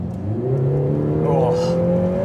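A Lotus Emira turbo sports car engine in sport mode revs and climbs steadily in pitch as it accelerates on a track, a smooth rising whine close by.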